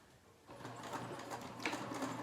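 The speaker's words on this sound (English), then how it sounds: "now we're sewing at full seam allowance" A sewing machine runs steadily, stitching a seam at full seam allowance while making a Devon pouch, its whirring starting after a brief quiet moment and continuing close by with no talk.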